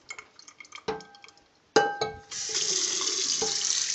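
A kitchen faucet runs into a sink to rinse hamburger meat, with a few clinks of a pan and dishes first, then a steady close stream of water.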